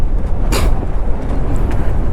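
A motorbike rides over a wooden plank bridge at Pulicat Lake, a loud, steady engine rumble and road noise filling the clip with a brief rattling burst near the start.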